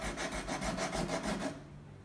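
Compressed charcoal brick rubbed back and forth on paper, about ten quick rhythmic scratchy strokes for a second and a half, close and quiet, then fading to near silence.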